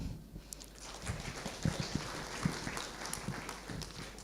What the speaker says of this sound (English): So give him a clap.